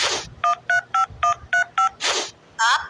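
A phone keypad beeps out a number, six evenly spaced DTMF tones in quick succession, with short bursts of speech at the start and end.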